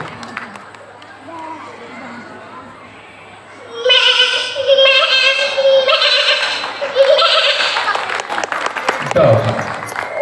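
A human mimic imitates a goat, giving a run of loud, wavering, nasal bleats one after another after a quieter opening with background murmur.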